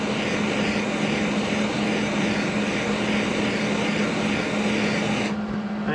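Torch heating metal before welding on a mulching head push bar repair, a steady loud roaring hiss with a constant hum, cutting off sharply just before the end.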